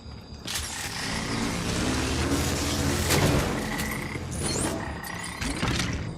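Small frogs croak in a LEGO Jurassic World game scene, a few brief chirpy calls repeating over a steady ambient game bed of rustling jungle noise, with a couple of faint tonal whistles mixed in.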